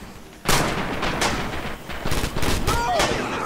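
Gunfire in the WWII shooter Rising Storm (Red Orchestra 2): close, loud rifle and machine-gun shots in quick bursts over battlefield noise, with voices shouting in the background.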